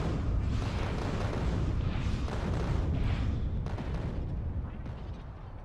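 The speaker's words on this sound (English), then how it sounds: "let's not walk into my own nuclear explosion" Sustained rumbling blast from a nuclear explosion in Factorio, a loud broadband roar that holds steady for several seconds before slowly fading, with no talk over it.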